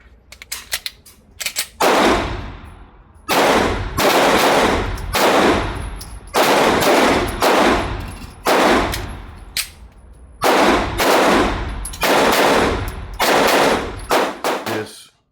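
A CZ P-10 C ported pistol fires a magazine in rapid strings of loud, close gunshots with only brief gaps between groups, ending in a short pause.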